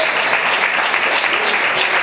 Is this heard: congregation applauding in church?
yes